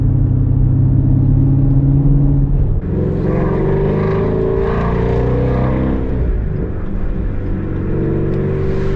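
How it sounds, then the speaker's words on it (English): A Chevrolet Camaro 1LE muscle car's engine rumbles loud and close with a deep, steady drone, then the pitch rises and wavers as it revs under acceleration, with no talk over it. "I think the Camaro is definitely still more on the muscle car side of sound."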